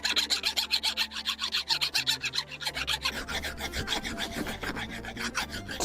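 A metal hand file rasps in rapid rhythmic strokes across the corners of a hand-forged steel stake anvil, each pass a sharp scraping burst, close and loud.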